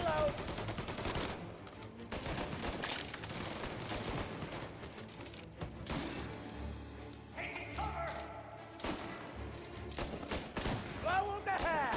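Gunfire rages through a Mafia Definitive Edition shootout, with dense volleys of shots and thuds running continuously under shouted game dialogue and music.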